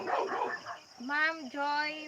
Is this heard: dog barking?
yes